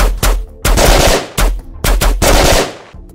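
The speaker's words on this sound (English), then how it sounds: "The gunfire continues." Loud, close bursts of automatic gunfire in a tabletop wargame raid on a compound, with rapid machine-gun volleys broken by short gaps and no voices.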